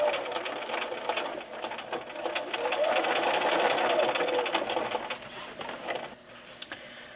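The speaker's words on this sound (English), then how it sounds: "So I'm at my machine, and with a normal stitch I'm going to start here and stitch all the way around" A sewing machine runs a normal stitch around the edge of an ironing board cover, humming steadily and close for several seconds with a slight rise in speed midway, then trailing off near the end.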